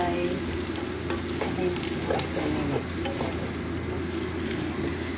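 Onions browning and being stirred with spices in a pan for a Filipino-cooked maqluba, a steady close sizzle and fry with scraping stir strokes throughout, and a voice briefly heard over it.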